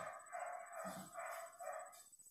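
A dog gives three drawn-out, wavering howling cries, faint and somewhat distant, with no talking over them.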